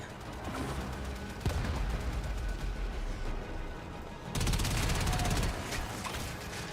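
Cannon batteries on rocky outcrops firing in the video game Warframe, a dense, continuous barrage of booming blasts and crackling explosions that swells louder in bursts and never fully lets up.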